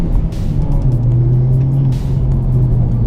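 Honda Civic Type R driving on a wet road with leaves, a steady engine drone and road rumble heard from inside the car, engine note rising slightly partway through, no talk.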